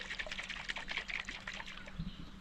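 Water from a freshly cracked coconut pours and trickles out in a steady, close liquid dribble, fairly quiet, with no talking over it.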